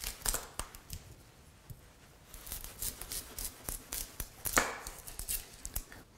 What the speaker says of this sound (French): Donc nous allons couper chaque bord des oignons